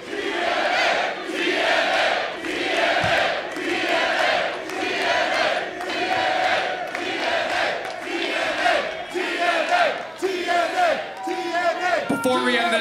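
A wrestling arena crowd chants TNA in loud, rhythmic bursts, repeating the three-letter chant over and over with cheering mixed in.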